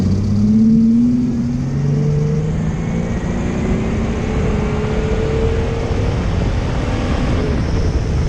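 A GMC Jimmy with a 4.3 engine accelerates sluggishly, its loud close drone holding a steady, labored pitch that climbs only slowly over several seconds against constant road noise.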